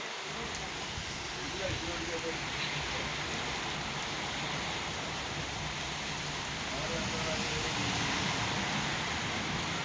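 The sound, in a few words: rain falling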